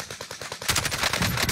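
Rapid video game gunfire rattles in quick bursts, first a steady run of evenly spaced shots, then a denser, louder stretch of automatic fire.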